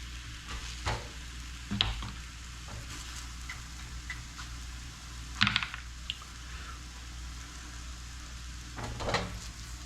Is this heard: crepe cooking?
yes